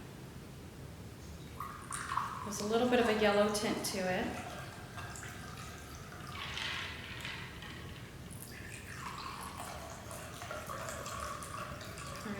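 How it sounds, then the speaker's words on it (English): Vodka and pineapple juice poured into several glasses for a candy corn cocktail, a thin trickling stream starting and stopping as each glass fills, with a person talking over it. "Just going to pour some in each glass here"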